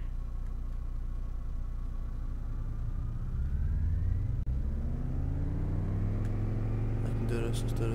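Aircraft engine in Microsoft Flight Simulator throttling up for takeoff, a steady loud drone that climbs in pitch and swells in the second half as power builds, with a voice talking over it.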